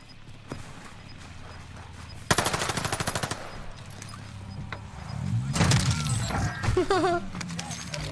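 Machine gun fire in the video game Warzone Pacific, a loud rapid burst of automatic shots followed by more rattling gunfire and game effects, with a voice speaking.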